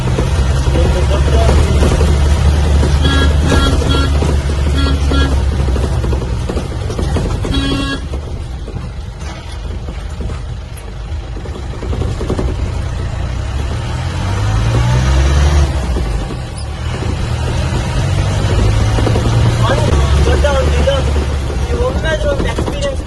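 An old 2009 Mahindra 4x4 pickup drives over rough ground, its engine droning loud and continuous up close, with rattling and shifting pitch as it moves; a voice talks intermittently over the engine noise.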